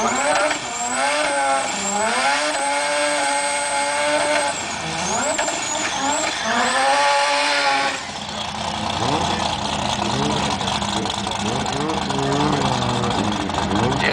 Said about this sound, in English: so Supermod is a mixture of super sedans and modified cars